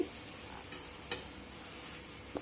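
Turmeric and spices sautéing in a pan for Mumbai-style vada pav give a steady soft sizzle, with a few brief scrapes of a spoon stirring through it, close and fairly quiet, no talking.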